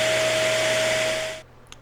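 A vacuum cleaner under repair roars steadily with a high whine, then shuts off abruptly, leaving near silence and a small knock.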